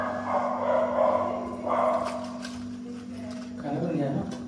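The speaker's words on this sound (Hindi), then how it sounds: "किसको देख के भौंक रहा है," A household dog barks indoors in a family home, a few yips and barks mixed under ongoing talk, with a steady electrical hum in the background.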